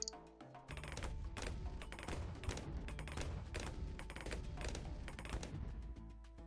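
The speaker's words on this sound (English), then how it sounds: "More cannon action." Cannon towers firing in Bloons TD 6, a dense, continuous barrage of rapid booming shots that keeps up without pause, loud and close, with no talk over it.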